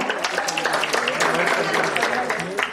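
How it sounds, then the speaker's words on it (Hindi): An audience at an art club stage event breaks into applause, a dense patter of clapping lasting a few seconds at moderate loudness with voices mixed in. "जोरदार तालियां हो जाए"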